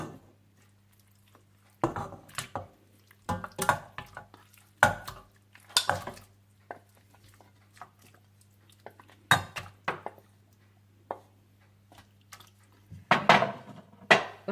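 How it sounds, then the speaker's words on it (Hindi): Meat being added to a pot of water, with several bursts of metallic clinks, scrapes and knocks against the pot separated by quiet pauses, close and moderately loud. "और इसमें आप गोश्त डाल दें।"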